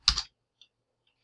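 A few computer keyboard keystrokes entering a command in a terminal: a quick double burst of clicks at the start, then two faint isolated taps, close and dry with no talk.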